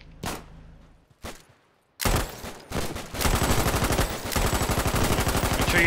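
Gunfire in the war video game Foxhole, a couple of isolated loud shots followed by sustained rapid automatic fire with steady repeating cracks, close and loud, with no talk over it.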